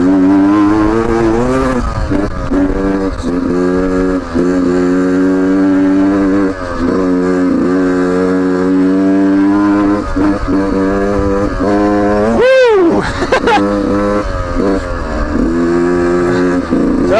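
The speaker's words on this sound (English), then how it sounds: "You gotta twist the throttle to get this thing to go." A 2019 Beta 125 RR Race Edition dirt bike engine on a test ride, loud and close, revving continuously with rising and falling throttle sweeps and one sharp high rev spike near the end.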